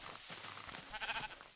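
A sheep bleats in Minecraft, a short wavering cry that stands alone and fairly faint against a soft hiss of in-game rain.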